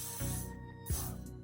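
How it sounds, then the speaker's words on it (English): Got2b glue spray misted onto the hairline edges while installing a lace front wig: two short, close hissing bursts over steady background music, with no talking. "we're gonna apply some got to be glue spray on our edges"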